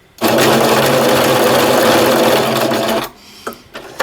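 A sewing machine stitching a patch onto loose jersey fabric runs in one loud, steady whirring burst of rapid stitches, close up, then stops and leaves a few soft clicks and handling noises.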